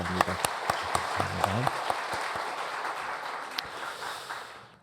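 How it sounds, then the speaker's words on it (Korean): Church congregation applauding during a Sunday worship service, steady mixed clapping throughout with a few sharp close claps and a voice speaking briefly over it near the start. "이렇게 박수 한번 해주시기 바랍니다"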